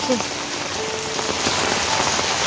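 Water pours steadily down from above near a house in a village, a dense continuous splashing hiss like heavy rain on a surface, close and loud, with a voice faintly underneath.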